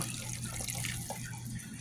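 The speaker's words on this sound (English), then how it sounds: "You take a little bit of vinegar and pour it into your mixture." Vinegar pours in a steady trickle into a beef stew mixture, soft splashing under a low background hum.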